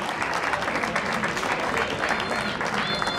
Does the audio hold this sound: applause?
yes